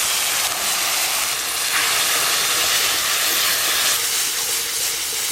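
Water poured into a hot pan of sizzling ginger, cumin and dried chilli paste with turmeric gives a loud, steady hiss and steam that runs unbroken for several seconds, with no voices.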